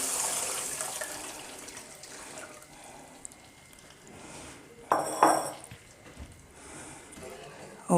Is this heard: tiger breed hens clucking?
no